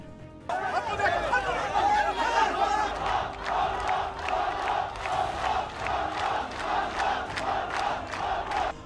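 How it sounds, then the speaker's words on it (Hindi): A large crowd shouts and chants angrily at Israeli Prime Minister Benjamin Netanyahu, calling him a murderer, with many voices rising in rhythmic, repeated bursts of jeering under a steady background of murmuring. "इस भीड़ में कई लोग नेतन्याहू को हत्यारा तक कह रहे थे और उनसे वहां से जाने की मांग करने लगे"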